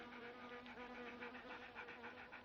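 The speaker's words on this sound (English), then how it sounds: "There's a big fucking bee is just like chasing me." A big bee buzzes continuously close by outdoors near hot springs in Truth or Consequences, its hum pulsing softly as it hovers, fairly faint with no talking.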